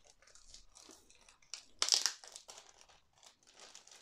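Diamond painting canvas packaging opened by hand: close, fairly faint crinkling and rustling of plastic film, with a louder tearing crunch in the middle, then further soft crinkles.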